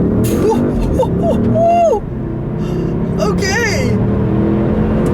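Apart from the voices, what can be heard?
2013 Audi S6 twin-turbo V8 accelerating in first gear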